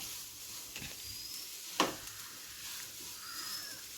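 Cooked clams sauté with onions in a pan for Kerala kakka thoran, a faint steady sizzle with a couple of soft utensil scrapes and one sharp clink near the middle, quiet and close with no voices.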